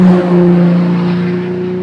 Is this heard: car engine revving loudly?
yes